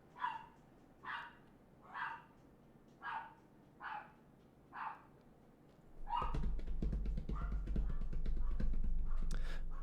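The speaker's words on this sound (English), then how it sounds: "more dogs barking" Six evenly spaced dog barks sound at a moderate distance, one roughly every second, before a louder rumbling background noise takes over and a few fainter barks continue beneath it.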